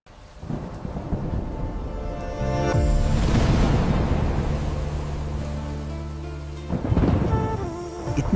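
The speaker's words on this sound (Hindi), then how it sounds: "इतने समय बाद वर्षा हुई और धरती पर फिर से हरियाली लौट आई।" Steady heavy rain pours throughout while thunder rumbles in, swelling into a long deep roll through the middle and cracking again near the end, no voices present.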